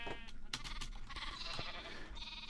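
Sheep in Minecraft bleat repeatedly in a small mutton and wool farm, with short nasal calls overlapping at a moderate distance and no talking.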